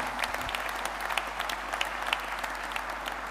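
At a hunters' conference in Limoges, an audience breaks into steady applause, a dense, even patter of many hands that continues throughout at moderate distance with no voices on top.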